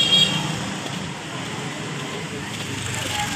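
Busy road traffic with motorbikes and buses makes a constant broadband roar, with a short high horn toot at the start and the wash of passing vehicles throughout.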